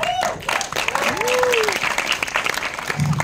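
Audience applause in an Indonesian comedy setting, a dense steady clatter of clapping that holds for a few seconds with a voice rising and falling over it.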